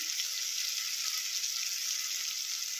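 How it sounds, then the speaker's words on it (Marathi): Sambar masala sizzles and fries in a pan with tamarind water and jaggery, a steady, bright crackling hiss that continues evenly throughout with no voices. "तर बघा मसाला छानपैकी परतून झालेला आहे"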